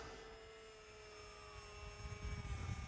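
An E-flite T-28 Trojan RC airplane flies in to land, its faint, steady electric motor whine growing slightly louder and rougher toward the end.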